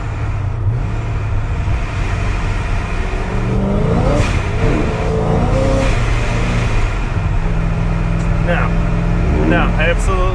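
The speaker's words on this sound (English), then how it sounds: "just kind of stepping on it for a split second and completely lost traction there" A Procharged Pontiac GTO accelerating and losing traction, its engine droning loud and steady as the revs climb and swell in pitch, with someone talking over the engine throughout.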